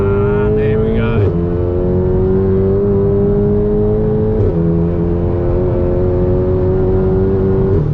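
A Volkswagen Golf R engine revs loudly up through the gears as it accelerates, a rising whine that dips briefly at a gear change and climbs again, heard close from inside the car.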